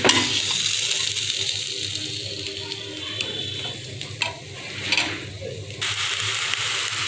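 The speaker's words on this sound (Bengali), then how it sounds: "এখন বেগুনগুলো ভেজে নিব।" Eggplant slices frying in fish oil after potatoes, with turmeric and salt, a continuous loud sizzle in the pan with occasional stirring scrapes and brief clinks throughout.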